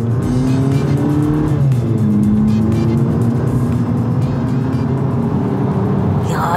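Volkswagen Polo GTI Edition 25 engine in sport mode, a loud, steady, close drone of engine and road noise while driving, with no talk over it.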